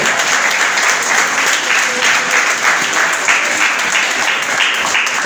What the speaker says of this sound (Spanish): ¿Cuánto le damos un aplauso a Cristo?